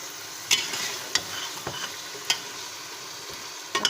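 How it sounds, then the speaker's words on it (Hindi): Bone-in beef frying in a pot for shaljam palak gosht, a soft steady sizzle broken by a few sharp clanks and scrapes of stirring at irregular intervals. "हम अपने बीफ को अच्छे से फ्राई कर लेंगे"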